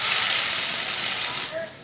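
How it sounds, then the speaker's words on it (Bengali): Fish curry broth boiling under a lid in a pot, giving a steady loud hiss and bubbling rush that continues evenly throughout, with no talking. "ঢাকনা দিয়ে ঝোলটাকে আমি আরও 1 মিনিট সেদ্ধ করে নেব।"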